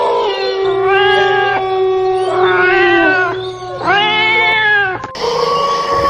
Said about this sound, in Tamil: அங்க பத்தியா பூனை போகுது